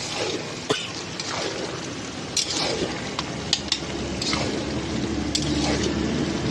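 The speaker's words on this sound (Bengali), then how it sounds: "এই যে শাকের থেকে যে জলটা বেরিয়েছে, এই জলটা যতক্ষণ না মরছে ততক্ষণ নেড়ে যাবো" Leafy greens cook down in a pan with their released water, stirred in repeated scraping strokes over a steady, close simmering sizzle.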